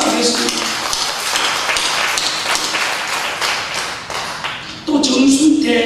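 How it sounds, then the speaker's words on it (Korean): A church congregation at a Sunday service claps in broad, sustained applause, many hands together filling the room, with voices mixed in and a louder burst near the end. "앞으로 박용대 씨가 좋은 축복받아라고 큰 박수 하겠습니다."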